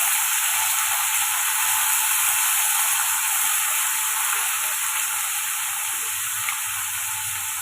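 Bottle gourd and tomato sauté in a pan with salt, giving a steady, close sizzle and hiss of frying that runs unbroken throughout, with no talking over it.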